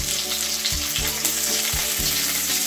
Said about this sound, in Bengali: আমি এখন এই ফোড়নগুলোকে একটু ভালো করে লাল লাল করে ভেজে নেব।